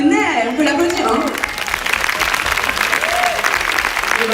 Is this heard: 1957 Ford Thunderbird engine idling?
no